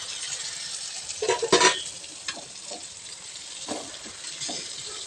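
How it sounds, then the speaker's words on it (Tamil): Chopped tomatoes with a pinch of turmeric sautéing in hot oil for an egg dish, with a soft sizzle under sharp metal spatula scrapes and clinks against the pan, the loudest cluster early and lighter scrapes after. "இது இப்போ எண்ணெயிலே வதங்கட்டும்."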